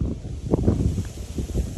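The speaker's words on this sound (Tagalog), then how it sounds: "Lakas ng hangin oh." Gusty wind on Mount Butler buffets the microphone outdoors, a low rumbling roar that swells and fades in bursts with a faint hiss above it.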